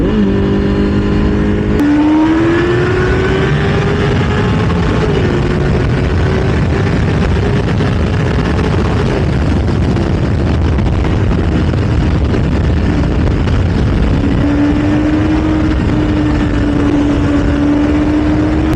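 A motorcycle engine revs inside a road tunnel on a Black Sea touring ride, loud and reverberant, with a sharp blip near the start, then sustained droning pulls that shift pitch and swell again toward the end.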